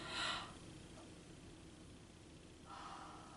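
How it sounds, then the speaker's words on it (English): A singer draws a yawning breath in during a vocal warm-up, with a short airy inhale at the start and another soft breathy swell near the end, quiet and close with no talking. "we're going to take a nice breath in and yawn if we can"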